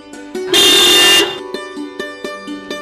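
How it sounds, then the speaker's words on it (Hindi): A car horn gives a single loud, sustained honk lasting under a second, close by, set against quieter tonal background sounds before and after. "लो हॉर्न बज गया, शायद वो लोग आ गए।"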